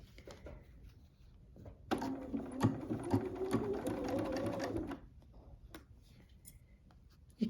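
A sewing machine stitches a quilt binding seam, a short burst of steady whirring needle rhythm running for about three seconds between quiet handling clicks and rustles.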